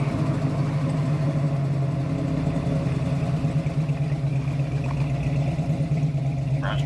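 A 1970 Ford Mustang Sportsroof's original numbers-matching Windsor V8 idles steadily with a low, even rumble and light mechanical clatter, close and continuous with no talk.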